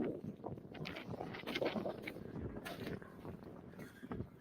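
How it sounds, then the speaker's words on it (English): Wind buffets the microphone outdoors among megalithic stone ruins at Pikillaqta, Peru, producing a steady low rumble with gusty swells and a few brief louder bursts. "It's windy all day too."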